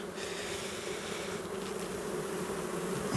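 A dense crowd of honeybees buzzes steadily at an open beehive during a spring inspection, with a continuous close hum and no talking.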